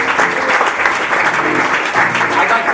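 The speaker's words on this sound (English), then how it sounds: "Give them a round of applause." Audience applause at a Scratch Theater performance, dense steady clapping from a room of people holding at full strength for about three seconds.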